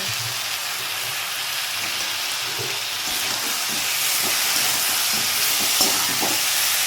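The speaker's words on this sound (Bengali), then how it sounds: "এটা আমি নেড়ে নিচ্ছি ভালো করে" Cabbage with tomato and salt sizzles steadily while being stirred in a frying pan, with a continuous hiss and occasional scraping and clacking from the stirring utensil, close and fairly loud with no voices.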